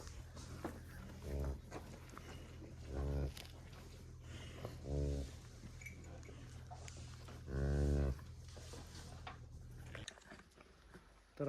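A farm cow that has just given birth to a calf moos four times, each low call well separated, over a steady low background hum.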